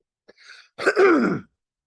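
A single person clears their throat and gives a short rough cough, close by, followed by silence.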